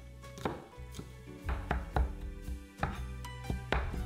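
A knife minces onion, carrot and celery on a board, sounding as close, fairly rapid, uneven chopping taps with dull board thumps and no talk.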